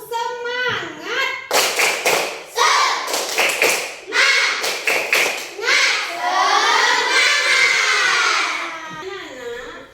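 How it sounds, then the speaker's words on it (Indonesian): Schoolchildren in an Indonesian classroom doing a rhythmic tepuk semangat clapping chant, sharp bursts of group claps in a set pattern broken up by loud chanted calls, close and lively. "tepuk semangat yuk. Tepuk semangat"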